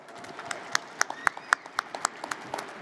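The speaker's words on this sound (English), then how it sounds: "Well worthy of a clap." Audience applause following a panel speech on polar oceans and climate, heard as a steady patter of scattered claps with sharper individual hits standing out, moderately near and continuing throughout.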